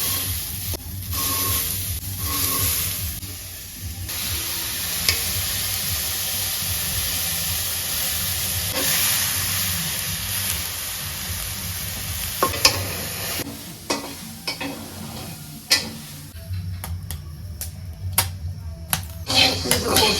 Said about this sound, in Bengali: ডাল ভাজা কিন্তু হয়ে গেছে প্রায়